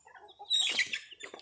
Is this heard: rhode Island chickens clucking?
yes